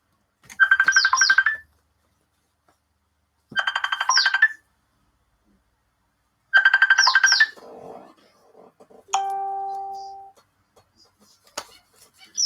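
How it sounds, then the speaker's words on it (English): A telephone rings in three loud, trilling bursts spaced a few seconds apart in a quiet room, followed by a brief electronic tone and soft handling clicks. "We've got a phone call."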